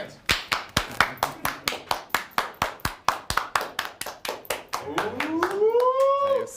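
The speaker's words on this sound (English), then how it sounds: "Everybody clap your hands." A group claps hands in rhythm at a lively live stream sports-betting show, about two dozen sharp, evenly spaced claps near and loud, then a quick whoop and sliding voices join as the clapping trails off.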